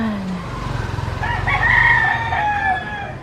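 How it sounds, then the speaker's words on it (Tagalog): Chicken at a market calling with a loud, close squawking crow over a low rumbling background. "may manok."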